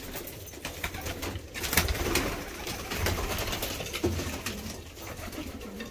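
Large Bağdadı pigeons in a loft coo continuously, a steady throaty murmur from several birds close by, with occasional wing rustles and clatter and no talk.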